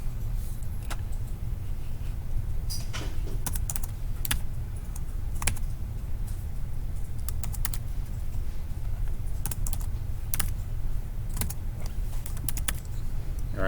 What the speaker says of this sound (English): Hit enter so we can type below.